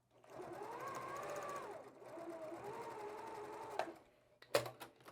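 A sewing machine stitches fabric pieces for a quilt block, whirring steadily for several seconds and easing in pitch before a few short, sharp clunks and bursts at the end.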